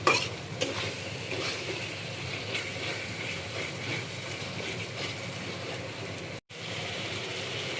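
Food frying in mustard oil for a Bengali hilsa-and-taro dish, a steady dense sizzle with faint stirring scrapes, continuous and close, with one brief dropout near the end.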